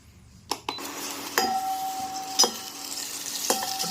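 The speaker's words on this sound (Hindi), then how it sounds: "फटाफट से तड़का हो गया।" Cloves and curry leaves crackle and sizzle in hot ghee, with sharp pops and the clink of a utensil over a soft steady hiss.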